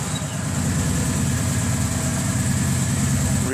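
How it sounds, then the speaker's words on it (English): A 2012 Kawasaki Voyager VN1700 motorcycle engine idles steadily up close, a loud continuous low rumble with a mild vibrating drone and no voices. "Now I'm going to start the engine."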